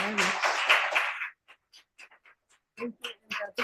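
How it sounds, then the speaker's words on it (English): An audience applauds panelists after a discussion panel at Granada University, a dense burst of clapping for about a second before it thins into scattered voices and a few stray claps. "I think we can give them a round of applause."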